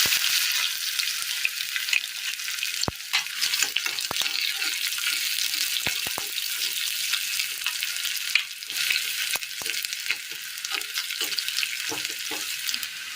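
Mustard seeds and shallots fry in hot oil in a Kerala-style tempering, giving a continuous loud sizzle broken by scattered sharp pops and crackles throughout.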